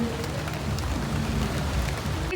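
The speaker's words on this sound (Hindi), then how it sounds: "बाहर लगी है बारिश, बहुत तेज हो रही है बारिश।" Heavy rain falls outside during a stormy spell, a constant close drumming patter on surfaces with scattered droplet ticks, steady and unvoiced.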